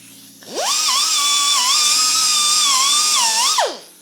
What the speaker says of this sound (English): I will try these ones that are more some sort of a brush, wire brush or something, instead of being just some sanding pad.